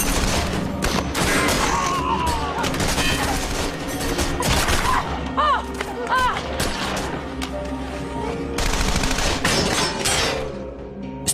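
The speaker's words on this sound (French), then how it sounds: "Mais Émile Matazareanu commence à régler son tir." Gunfire rings out during a bank robbery shootout in Los Angeles, with bursts of distant and nearby shots, crashes and thuds over sirens and street noise while voices talk throughout.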